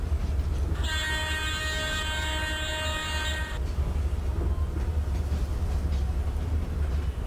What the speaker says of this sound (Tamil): horn sound bro, horn sound கேட்டிருக்கும் bro